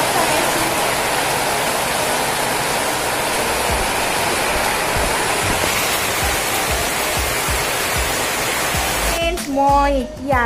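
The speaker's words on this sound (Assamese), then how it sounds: "এয়া বৰষুণ চাই আছো" Monsoon rain falls in a steady, dense rush that stays loud and even throughout, with a brief voice or tonal sound breaking in near the very end.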